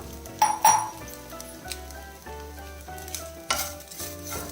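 Grated coconut roasts in ghee in a pan for a jackfruit seed sweet, giving a steady close sizzle with a few sharp clinks and scrapes of stirring. Soft background music with tonal lines plays throughout, and no one speaks.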